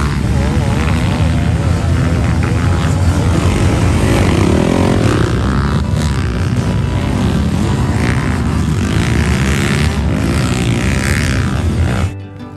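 Motorcycles, one of them a costly red bike, climb a steep forest slope, their engines revving loud and close with a buzzing, strained roar that rises and falls as the bikes climb, and someone talks over the noise.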